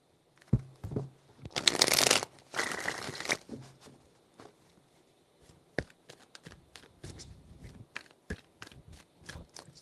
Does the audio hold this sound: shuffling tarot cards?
yes